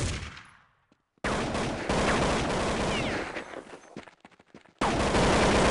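Rapid gunfire from a USP pistol and an AK rifle in a Counter-Strike match on de_train, loud, dense bursts with a brief pause and sudden stops, no voices.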